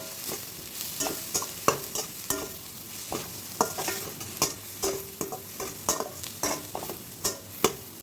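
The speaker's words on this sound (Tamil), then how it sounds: "சேர்த்துட்டு நல்லா மிக்ஸ் பண்ணிக்கலாம்." Cabbage poriyal with grated coconut stirred in a pan, a rhythmic run of sharp spatula scrapes and knocks over a low sizzle, close and busy without talk.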